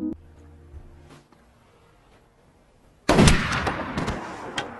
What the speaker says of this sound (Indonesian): Lee ditembak mati.